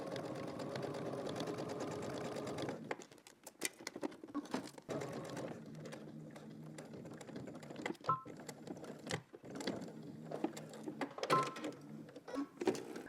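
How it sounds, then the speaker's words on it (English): A sewing machine top stitches a garment with a fast mechanical whirring patter, stopping and starting in short runs amid small clicks and handling sounds. "now I'm gonna go to my sewing machine and I'm just going to top stitch"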